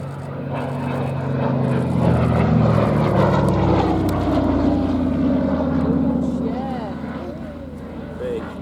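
Propeller aircraft at the Shuttleworth Festival of Flight drones loudly overhead, swelling and then slowly fading with a slight pitch shift as it passes, while people talk nearby.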